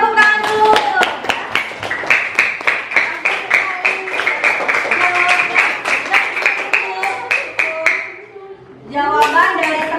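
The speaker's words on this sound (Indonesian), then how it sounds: "kasih tepuk tangan dulu" A school class claps hands in a steady, rhythmic unison beat, loud and close, with a voice audible under the clapping before it stops and talk resumes.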